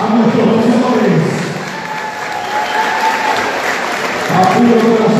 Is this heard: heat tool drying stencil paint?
no